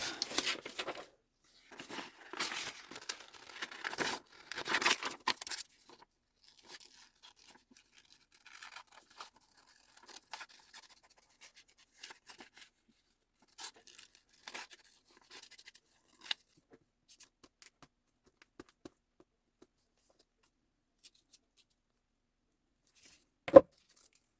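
Scissors cut through a paper watercolour painting in close, crisp bursts of snipping and rustling, busiest at the start and then thinning to scattered quiet snips, with one sharp click near the end.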